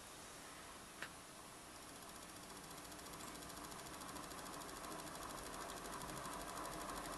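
A series wound milk float electric motor turns under PWM control, giving a faint, steady whirring hum with a fine rapid ticking texture and a single soft click near the start.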